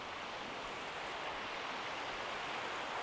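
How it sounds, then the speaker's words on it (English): Steady rushing water flows below a wet mountain campsite in Arizona's White Mountains, a broad, even wash of sound that holds without pause from start to finish. "Can you hear the water?"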